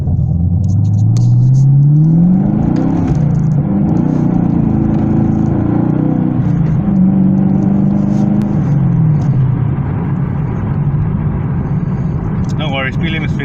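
A tuned car's engine accelerates while driving, rising tones sweeping upward and settling into a steady rumble, with someone talking over the engine throughout.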